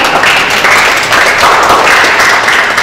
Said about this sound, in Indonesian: mari kita berikan tepuk tangan untuk kedua narasumber kita